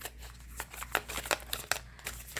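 A goddess-themed tarot deck being shuffled by hand, a quick run of soft riffling card flicks and papery slaps, close and fairly quiet, with no talking.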